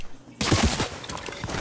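After a quiet start, a sudden loud burst of video game gunfire breaks out and carries on as a dense rattle of shots and impacts for over a second.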